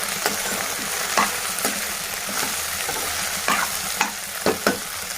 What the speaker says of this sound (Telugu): పండు మిర్చి వేసుకున్నాక ఇది బాగా కలపాలి